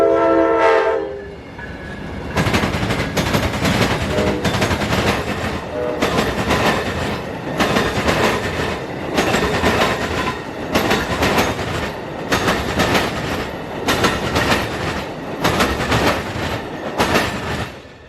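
Amtrak 92, a northbound passenger train, rolls past in Plant City, Florida, opening with a horn blast before a loud, steady rush of railcars and wheel clatter fills the scene with no talk.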